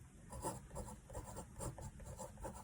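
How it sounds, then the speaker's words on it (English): Pen or pencil strokes drawing lines across paper, a steady close scratching and rubbing with short repeated passes, no talking. "So I'm gonna draw one line, and another line"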